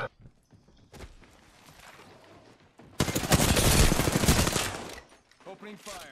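Gunfire in the video game Apex Legends during a fight against several opponents: a few scattered shots, then a dense, loud burst of sustained rapid fire lasting about two seconds, followed by quieter game sounds.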